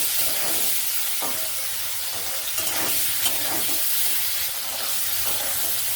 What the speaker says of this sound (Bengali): হালকা করে একটু অল্প করে ভেজে নেব পনিরগুলো